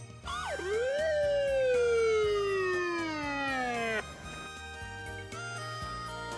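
A toy police car sounds its siren, a loud rising-and-falling electronic wail that sweeps for several seconds, then drops into a shorter repeating tone, with a steady rhythmic electronic beat underneath.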